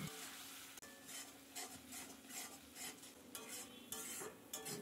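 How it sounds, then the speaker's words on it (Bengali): Spice paste being worked in a pan with pureed tomato and a little water for a jackfruit and prawn curry, a spoon scraping and stirring in steady repeated strokes over a soft simmering sizzle. "জল দিয়ে মশলাটিকে একটু ভালো করে কষিয়ে নেব।"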